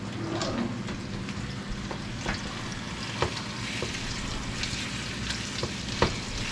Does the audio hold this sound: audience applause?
no